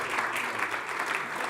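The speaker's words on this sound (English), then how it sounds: "Can I ask for a round of applause for my audience and citizens?" Brief, even applause from the audience at a Chatham House talk on artificial intelligence, a continuous patter of many hands.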